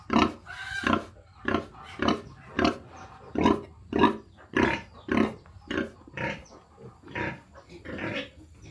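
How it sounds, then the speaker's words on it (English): Breeding sows in separate pens on a mountain farm in northern Vietnam grunt and squeal at feeding time, about a dozen loud, rhythmic calls spaced roughly half a second apart, close by and with no talking. "Now it's time to feed the pigs. We have 3 breeding sows, and each one has her own pen."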